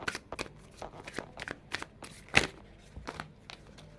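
Tarot cards being handled and shuffled, a close series of crisp riffling flicks and soft slaps in irregular bursts, quiet and alone with no talking.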